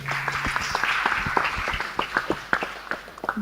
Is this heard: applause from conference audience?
yes